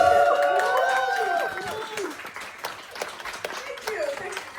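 Audience at a stand-up comedy show clapping and cheering, a dense burst of applause that fades into scattered claps while a performer's voice carries over it.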